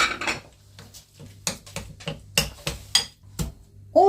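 Spoon scraping and knocking against a bowl while leeks are mixed with béchamel, ham and gruyère. The clinks and taps come irregularly, close up, with soft wet stirring between them.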